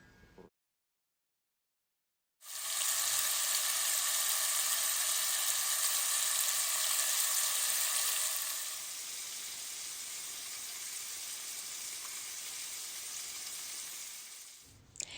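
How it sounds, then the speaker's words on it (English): Chopped bite-sized bacon pieces frying in a pan give off a loud, steady sizzle that starts abruptly and continues throughout, easing slightly partway through, with no talking. "chop up my bacon into bite-sized pieces and let it fry up in the pan"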